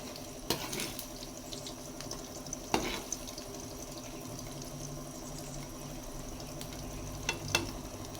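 Egg with long beans fries in hot oil, holding a steady, faint sizzle and crackle throughout, broken by a few sharp clicks of a utensil against the pan.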